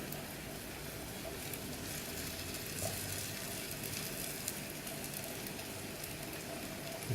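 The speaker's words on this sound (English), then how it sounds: "use your spatula and move some of the onions to the center" Onions frying for Kerala kalathappam, pushed about with a spatula: a soft, continuous sizzle at low level with a couple of faint scrapes.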